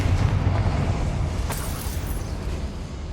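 A Confringo fire spell bursts in the Hogwarts Legacy video game, a loud close boom with a rumbling, crackling tail that fades over about three seconds, no voices.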